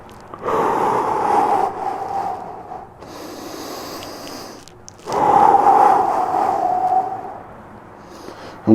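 Deep breathing during a stretch: two long, loud exhalations a few seconds apart, close and breathy, with quieter inhaling between them.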